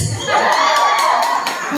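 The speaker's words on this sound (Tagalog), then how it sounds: "At syempre, sumigaw yung mga kapares." A crowd of team members shouts and cheers loudly at a business team event, a sustained burst of whoops and yells with children-like high voices mixed in.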